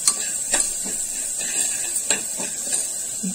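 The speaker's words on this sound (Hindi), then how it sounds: "और ये बटर पहले पिघल जाए, इसमें अच्छे से मिक्स कर लेंगे।" Butter melting and being stirred in a hot pan at home, with a steady high sizzle and hiss under scattered clinks and scrapes of a utensil against the pan.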